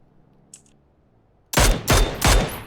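Three loud, close bursts of automatic gunfire from the video game PUBG ring out in quick succession after a quiet stretch with a faint click, no talking.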